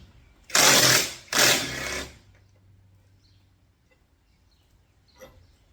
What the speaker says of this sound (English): We're just going to take it off using our impact wrench, and then we're going to replace it with the new one.